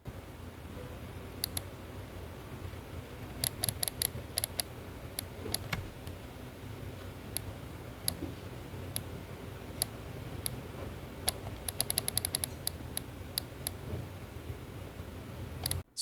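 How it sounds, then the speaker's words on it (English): Mobapad Chitu 2 controller buttons clicking, a run of sharp, quiet taps scattered irregularly over a steady low hum, some single and some in quick bursts of several. "on the Chitu 2, the click happens in the middle of the travel"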